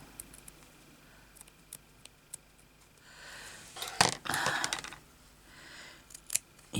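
Old scissors cutting a hole in fabric while making fabric buttons, heard as a few faint snips and then a louder burst of crisp cutting and rustling near the end, with no talking.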